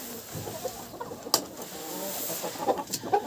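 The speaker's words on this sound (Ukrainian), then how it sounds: "Покажу вам своїх курочок тут з сараю." Chickens in a farm shed give soft clucks and a few sharper squawks, faint and close, with small rustles scattered throughout.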